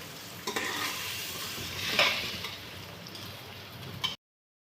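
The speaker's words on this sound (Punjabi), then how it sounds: "ਚੌਲਾਂ ਨੂੰ ਹਲਕਾ ਹਲਕਾ ਹਲਾਵਾਂਗੇ ਤੇ 1 ਮਿੰਟ ਲਈ ਇਹਨਾਂ ਨੂੰ ਭੁੰਨ ਲਾਂਗੇ ਘਿਓ 'ਚ" Rice being stirred and roasted in ghee over a medium gas flame, a continuous sizzle with scraping strokes of a spoon and a louder swirl near the middle, then a sudden cut to silence.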